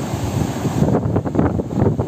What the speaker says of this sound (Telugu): ఇక్కడ 3 సముద్రాలు కలవడం వల్ల అలలు చూడండి అసలు ఎలా ఉందో